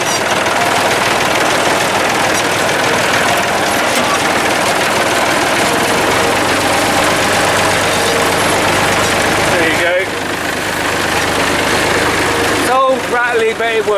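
A Massey Ferguson 135 tractor engine drones loud and close as the tractor drives along, with a steady rattly chug and brief dips near the end; a voice speaks over it.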